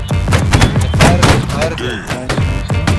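A musket line in Holdfast fires in volleys, with several sharp, close cracks in quick, ragged succession throughout. Voices call out and talk among the shots.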